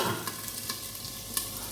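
Eggplant slices fry in hot oil in a home kitchen, a soft steady sizzle with faint stirring scrapes and small clicks, no voices.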